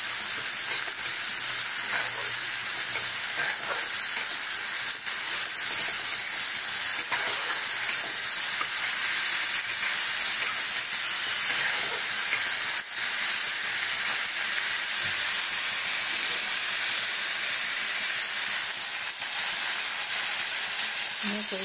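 Coriander powder, Kashmiri chilli and other spices frying in a pan sizzle in a steady, loud hiss, with occasional stirring scrapes and no talk.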